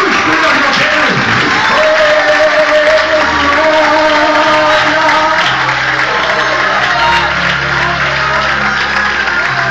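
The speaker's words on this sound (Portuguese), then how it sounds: "Bote palmas para Jesus." A church congregation claps and cheers in praise, loud continuous applause filling a large room, with voices and a preacher's amplified speech running over it and a low musical drone underneath.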